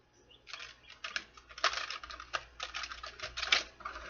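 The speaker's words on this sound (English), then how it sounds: "One more shuffle." Rapid, crisp fluttering clicks of stiff tarot cards being riffled and shuffled close up, in a few quick bursts.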